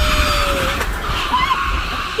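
An EV truck accelerates hard on an indoor ride course at the LA Auto Show, giving a steady loud rush of road and motor noise with a rising whine and brief tire squeal, and no talking.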